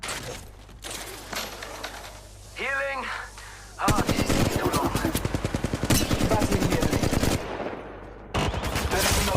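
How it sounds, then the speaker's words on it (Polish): Apex Legends Mobile gunfire rattles in fast automatic bursts, a long sustained stream of close rapid shots broken by short pauses, with a voice talking before the shooting starts. "Tam się coś strzela."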